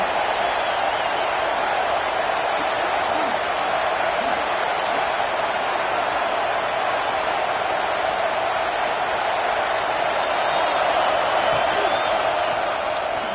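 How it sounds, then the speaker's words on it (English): A steady roar from a packed stadium crowd in the college football video game CFB26 holds loud and unbroken, a dense wall of cheering with no clear pauses. "It's early, but this crowd is fired up. Listen to this noise here."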